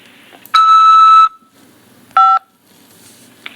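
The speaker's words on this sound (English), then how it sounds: "After the beep, press 5 to accept this call." An automated collect-call line from a corrections facility sounds a steady electronic beep, then a short keypad tone as 5 is pressed to accept, both clear and close over a quiet line.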